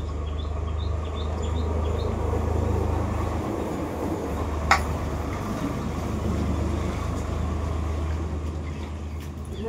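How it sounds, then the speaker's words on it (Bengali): A tractor passing on a road, a steady low engine drone heard at moderate distance with scattered bird chirps above it and a brief sharp click midway. "রাস্তা দিয়ে ট্রাক্টর যাচ্ছে"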